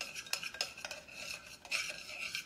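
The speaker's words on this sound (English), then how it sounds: "you're just going to want to stir this until it's all nice and uniform" A spoon stirs an apple dessert mixture in a bowl, giving quiet, close scraping and clinking strokes that repeat in an uneven rhythm, with no talking.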